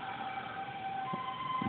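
A gas seller's vehicle circles nearby playing a loud, steady electronic jingle with sustained tonal notes, like a siren-style melody, continuing throughout with no talk.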